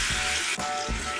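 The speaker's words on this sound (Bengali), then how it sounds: "খুব ভালো করে এটা মশলাটা একটু কষিয়ে নিতে হবে" Spice paste for a Bengali sour small-fish curry sautéing in hot oil, a close, bright continuous sizzle with a couple of brief stirring dips, alone without speech.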